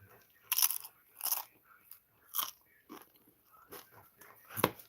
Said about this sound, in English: Guys chewing these Doritos on YouTube